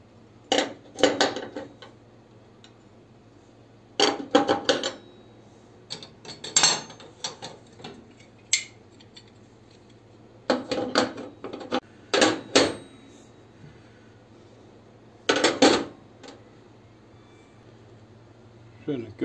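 Metal stove grates set back onto a freshly cleaned cooktop, irregular clusters of clanks and rattles at close range, with quiet gaps and a faint steady hum between them.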